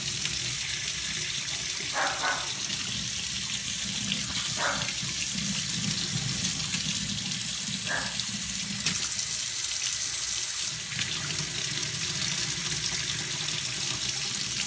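Water running steadily from a tap in an apartment during a water heater test, a continuous close hiss of flow with a few faint clinks.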